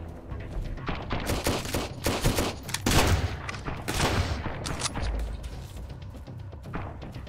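Shotgun fire in the Sunkenland video game: a dense, chaotic burst of repeated loud blasts and impacts, overlapping shots in rapid clusters with thuds and crashes, no talking.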